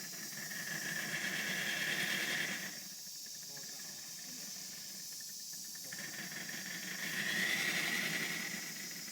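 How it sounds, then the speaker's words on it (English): A Thomson B1 steam locomotive in 5-inch gauge hisses steam continuously during a workshop steam test, loud at first, easing to a softer hiss midway, then swelling again. "Time to take the camera outside and video this steam test."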